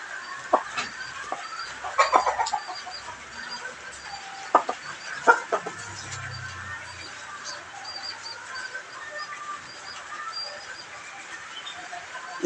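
A rooster being handled while its feathers are tended gives soft, scattered clucks and short calls, fairly quiet, with a few low thumps from movement in between.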